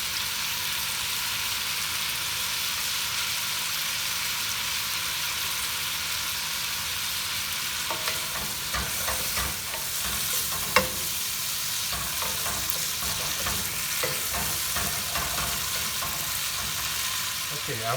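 Pork frying in a pan with coriander and cumin for vindaloo, a loud continuous sizzle that turns busier and crackly midway as the meat is stirred and scraped, with no talking.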